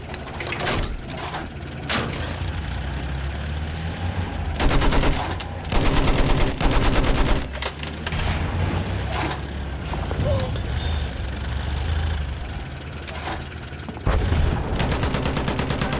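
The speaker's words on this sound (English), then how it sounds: "Machine gun! Hostile!" Machine gun fire in a Battlefield 1 match: long, loud bursts of rapid shots with short pauses between them, over rumbling engine and battle noise.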